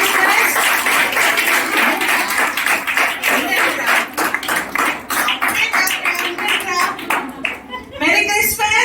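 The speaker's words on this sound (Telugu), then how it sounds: "చప్పట్లు కొట్టి పాస్టర్ గారికి చెప్తాం" Children at a church Christmas program clap together in a lively, rhythmic burst to welcome the pastor, close and loud, with children's voices and chatter mixed in.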